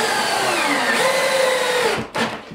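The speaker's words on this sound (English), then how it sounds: "I know I'm screwing it at an angle." A power driver sends a screw at an angle through a door hinge into a 2x6 frame, a steady loud whirring that rises in pitch and then stops with a short final burst.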